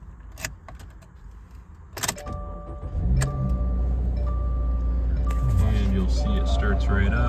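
A 2021 Subaru Crosstrek with low mileage starts up: a few clicks and jingles come first, then the engine catches and settles into a steady, close idle hum that carries on to the end.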